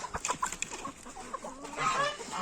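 Several chickens cluck in short, irregular bursts close by, with a busy farmyard feel and a louder, drawn-out squawk near the end.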